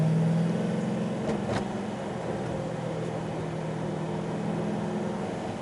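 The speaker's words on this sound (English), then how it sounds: "We're in hot pursuit. Wow, abrupt downshift." Heard from inside, a modified Chevy Caprice police car makes a steady low engine drone, with a brief shift in tone early on as it downshifts abruptly during a chase.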